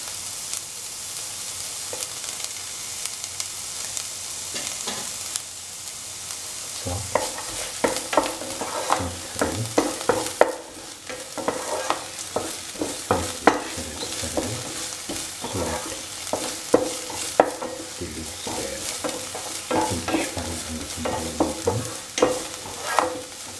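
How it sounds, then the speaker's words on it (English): Shallots fry in hot oil with a steady sizzle, joined after a few seconds by repeated scraping and clinking as they are stirred in the pan for a vegan beetroot coconut stew; close and alone, with no talk. "Once the oil gets heated, put in the shallots,"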